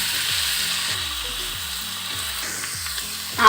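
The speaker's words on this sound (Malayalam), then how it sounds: "ഒരു തക്കാളി നാലായിട്ടൊക്കെ മുറിച്ചിട്ടുള്ളൂ എടുത്ത് കൊടുക്കാം ഒന്ന് വഴറ്റി കൊടുക്കാം" Quartered tomatoes sauté in a pan, giving a steady, moderately loud sizzle with light stirring, no voices, and a short clatter right at the end.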